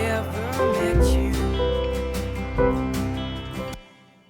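Keyboard chords from a Logic Pro session player using common-tone voicing, one note held while the chords shift, under a full backing track with a sung vocal line, ending abruptly.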